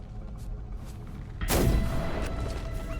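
A single loud gunshot from the Flintlock video game cracks out midway with a broadband burst and a booming tail that lingers, fired at a flag, over a low steady game background.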